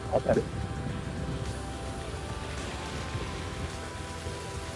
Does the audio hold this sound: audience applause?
no